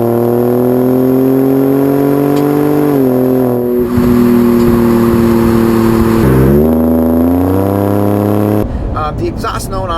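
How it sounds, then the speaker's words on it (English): A Ford Raptor truck's exhaust drones loud and close, a steady rumbling note whose pitch rises and falls with two revs and ends abruptly. "The exhaust note on this thing does not sound good at all"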